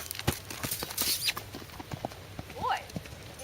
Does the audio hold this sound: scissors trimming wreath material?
no